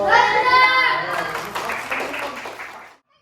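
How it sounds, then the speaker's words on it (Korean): Applause for a taekwondo instructor at a children's class: a burst of clapping from a small group, loudest at the start and thinning out before stopping after about three seconds, with children's voices mixed in. "박수 한번 부탁드립니다."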